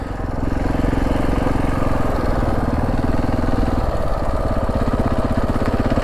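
A KTM 690 single-cylinder motorcycle engine idles steadily and close, a loud rhythmic thumping with a fast ticking clatter from a worn cam chain tensioner running throughout.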